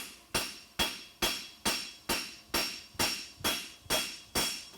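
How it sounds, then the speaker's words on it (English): Hammer blows ring out on steel as a blacksmith works a hind toe cap horseshoe at a world championship forging event: about eleven sharp, evenly spaced metallic strikes, each decaying quickly, loud and close with no talking. "pulling with my hammer"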